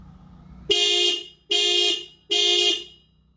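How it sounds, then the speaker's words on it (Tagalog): Toyota Fortuner car alarm set off by the key fob remote: three loud, identical sustained electronic horn-like blasts in quick succession, close by and otherwise alone. "Then yung kanyang alarm kung gumagana."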